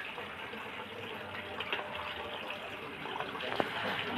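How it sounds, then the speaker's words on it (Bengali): Cut pieces of mrigal fish rinsed by hand under running water, a soft, steady low gush with occasional light splashes and handling knocks, fairly quiet and without talk. "মাছগুলো ফ্রেশ করে ধুলে তবেই টেস্ট হয়, সেই জন্য আস্তে আস্তে ধরে ধরে ফ্রেশ করে ধুয়ে নিচ্ছি"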